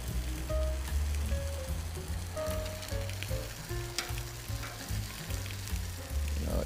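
Onion, tomato and mushrooms sizzle on a flat Camp Chef griddle, giving a continuous close hiss like light rain on a hot surface, with occasional tong clicks and scrapes.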